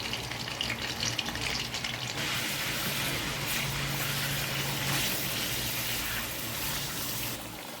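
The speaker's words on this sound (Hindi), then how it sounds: "सबसे पहले हम गोश्त को ऑयल में फ्राई करेंगे" Mutton frying in oil for Peshawari namkeen gosht, a loud continuous hissing sizzle that rushes like running water, close and steady throughout, easing slightly near the end.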